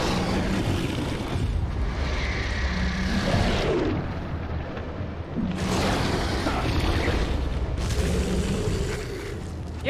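Grenades blow up in the video game The Sinking City, three deep booming blasts a few seconds apart, each with a broad rumbling roar that swells and fades, with no talk over them.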